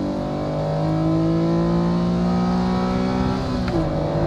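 Acura NSX engine revved up to full throttle, a loud, close, deep thrumming roar that builds steadily and then dips briefly near the end, with no voices over it.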